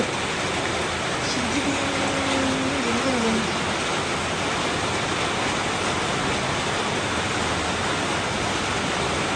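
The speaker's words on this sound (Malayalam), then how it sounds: "മഴ കൂടുന്നല്ലാണ്ട് കുറയുന്നില്ല." Heavy rain pours down in Oman as a dense, constant rushing hiss, with a brief voice-like tone rising faintly through it early on.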